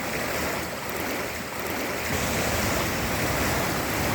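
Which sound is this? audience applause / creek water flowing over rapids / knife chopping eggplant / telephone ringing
creek water flowing over rapids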